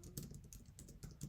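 Fast typing on a computer keyboard during coding, soft rapid key clicks in an uneven rhythm, quiet and close, without speech.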